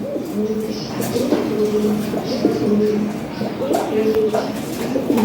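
Fancy pigeons coo in soft, repeated, throaty rolls close by, a steady murmur of several birds while someone talks over them.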